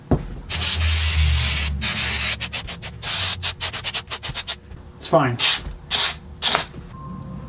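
Sprays of aerosol glue hiss in short, repeated bursts of varying length, close by, onto a paper template for an acoustic guitar mold, with a brief spoken remark partway through.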